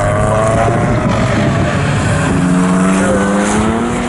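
Race cars at full throttle on the Snetterton circuit during a 750 Motor Club enduro championship race, loud continuous engine whine with rising and falling pitch as several cars pass near, no talking.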